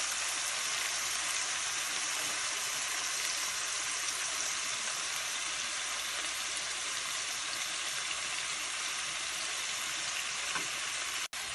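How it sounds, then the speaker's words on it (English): Marinated chicken lightly fries in gravy for Chicken Hyderabadi, giving a steady, soft, continuous sizzle with no voices. "I have my marinated chicken, and I'm going to be lightly frying it"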